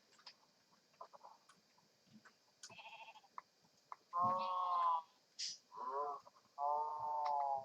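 Minecraft sheep give several loud bleats in a row, some long and wavering, over faint scattered clicks and footsteps.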